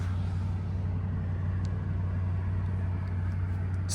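The engine of a 2020 Bentley Continental idles while warming up, a steady low hum and rumble with a constant drone that holds unchanged, with faint clicks and no voices.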